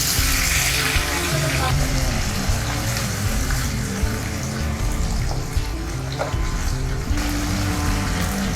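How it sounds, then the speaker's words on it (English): Loud, constant sizzling and crackling of pomfret fish frying in hot oil in a pan fills the whole stretch, with a few small pops. "I will put the fish on frying pan."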